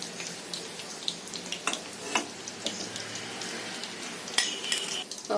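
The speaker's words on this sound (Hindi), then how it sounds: "मध्य फ्लेम पर रखकर इसे अच्छी तरह फ्राई होने देंगे" Chicken cheese bread rolls deep-fry in hot oil over a medium flame, a steady close sizzle and bubbling with scattered crackles and a few sharper pops, no voices.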